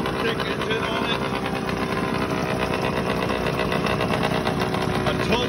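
Batavus moped fitted with a Puch kick-start engine running at a steady idle, a dense continuous buzzing drone with no breaks, close and loud throughout.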